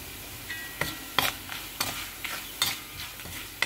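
Chilli powder and turmeric frying in a pan: a low, quiet sizzle broken by regular sharp scrapes of a spoon against the pan, close and unaccompanied.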